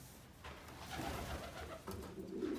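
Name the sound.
racing pigeons cooing in a loft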